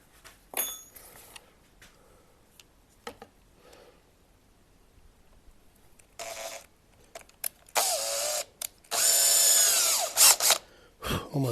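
A power drill bores a hole in a piece of work, its whine cutting in with short bursts and then a longer sustained run near the end, set among quiet gaps and scattered knocks.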